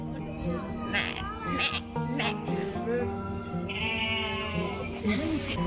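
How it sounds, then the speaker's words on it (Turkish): Goats bleat repeatedly nearby, several wavering cries overlapping with people talking and exclaiming over them. "Keçiler. En çok keçi var galiba."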